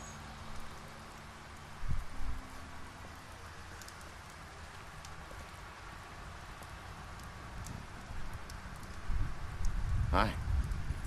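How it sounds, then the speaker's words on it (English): Steady rain falls in the dark, gritty world of The Wolf Among Us video game, a soft continuous patter with occasional louder drips and thuds, close and even throughout. "It's raining now."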